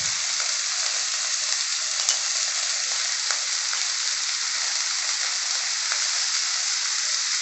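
Chopped onions fry in a pan for ridge gourd sabzi, a steady close sizzle with faint stirring scrapes running evenly throughout, no talking.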